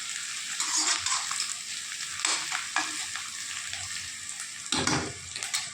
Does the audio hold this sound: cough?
no